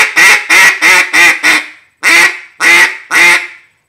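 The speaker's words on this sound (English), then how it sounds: "So here's the Daisy Cutter with a couple clacks." A Daisy Cutter duck call sounds seven sharp, loud quacking clacks: a quick run of five, a short pause, then three more, close up with no talking.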